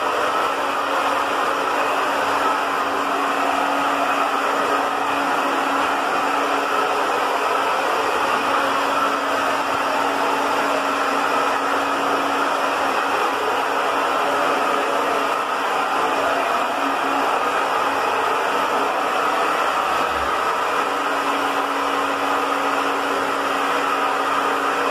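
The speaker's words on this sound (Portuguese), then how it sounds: "e vem com o secador." A hair dryer blows continuously on a pet after a dry bath, a long steady whooshing hum with a faint tonal whine, briefly dipping once before resuming.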